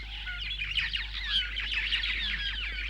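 Multicoloured jungle birds screech in a dense, continuous chorus of shrill, overlapping calls over a low steady hum.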